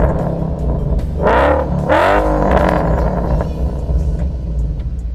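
Ford Mustang V8 engine rumbling close by, with two quick rising revs that fall back to a deep steady burble, loud and alone without speech.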